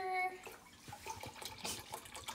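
Vinegar is poured and measured out, a soft, close trickle and splash of liquid with small irregular bursts, faint and continuous for a couple of seconds.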